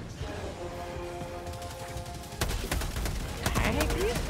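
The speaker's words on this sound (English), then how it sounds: "can you stop shooting me?" Gunfire in the Helldivers video game: bursts of rapid shots and impacts crowd the second half after a quieter start, loud and close.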